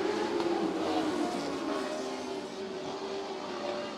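Race cars roaring as they accelerate on a green-flag restart at Merritt Speedway, a loud continuous engine drone that stays strong, with revving tones shifting across the field.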